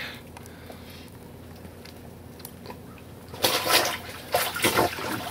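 Laundry is pushed into a rinse bucket of water: a quiet stretch, then loud close splashing and sloshing bursts in the last couple of seconds as the clothes are plunged and churned.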